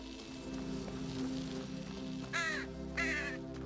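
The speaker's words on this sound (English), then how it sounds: "Be quiet, bird." Two harsh crow caws sound in The Talos Principle 2, each a short raspy call heard fairly close over a low, steady ambient hum.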